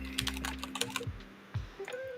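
Quick, light keystrokes tap on a computer keyboard in a short irregular burst, close but quiet, then a few scattered clicks follow.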